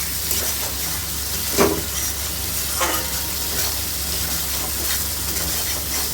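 Water hits a pan of frying rohu fish curry masala with potatoes, setting off a loud, steady steamy sizzle and hiss, with a couple of stirring scrapes.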